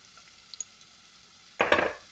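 Green beans with Arabic spices, pepper and turmeric are stirred in a pan, a quiet stretch with faint clinks before a sudden burst of loud sizzling and scraping near the end.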